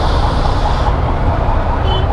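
An ambulance siren sounds in traffic on a flyover, steady and fairly loud within a dense, continuous rumble of vehicle noise.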